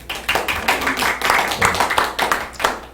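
A small indoor group claps together in a brisk, uneven round of applause, the hand claps close and rapid, lasting a few seconds.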